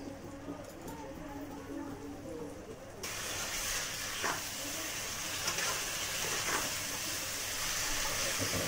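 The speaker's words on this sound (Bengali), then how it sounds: "এবার এর মধ্যে আমি একটু অল্প জল দিয়ে ঢেকে দেবো" Water is poured into a pan of chicken curry cooking on the stove, bringing a sudden loud hissing sizzle that replaces the quieter simmer and then continues steadily and close, with faint voice murmurs underneath.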